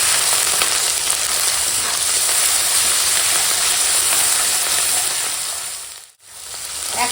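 Fish fat and vegetables fry in hot oil with turmeric and salt, a loud, steady sizzle that briefly drops out near the end before resuming.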